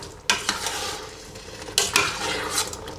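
A spoon stirs red beans and cubed sweet potatoes in a cooking pot, giving scraping, clattering strokes with two sharper bursts over a steady background, with no voices.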